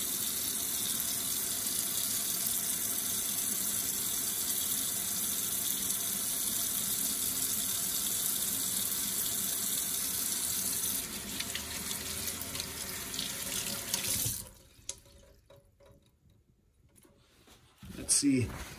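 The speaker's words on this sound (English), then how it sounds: "Temper that a little bit with some cold water." Cold tap water pours steadily over a rusty old jaw harp for most of the stretch, a close, constant rushing stream that cuts off near the end, leaving quiet handling sounds.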